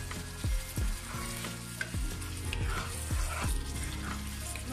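Spice masala for Bengali mutton kosha sizzling in a pan and stirred hard, with repeated scraping strokes of the spoon over a steady close fry.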